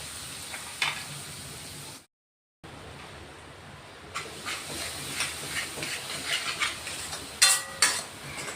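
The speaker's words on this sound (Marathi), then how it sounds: "चांगलं तेल सुटेपर्यंत ना हा मसाला परतून घ्यायचा आहे." Soft hissing sizzle of a spice paste frying in a kadhai over low heat, with a brief silence and then scattered stirring scrapes and clinks.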